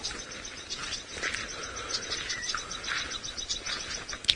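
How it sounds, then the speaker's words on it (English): Several scattered high, sharp bird alarm calls ring out over a steady insect-like buzz on a morning safari drive, irregular and fairly distant. "A few alarm calls of some birds there."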